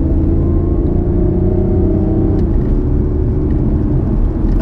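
A BMW i8 hybrid sports car in sport mode pulls away along a country lane, its engine note a steady, loud low drone with a rising whir, heard from inside the cabin with no talking.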